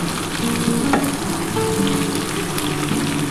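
Yardlong beans and eggplant fry gently in a pan with a steady, close, crackling sizzle that runs unbroken from start to finish, with an occasional faint clink.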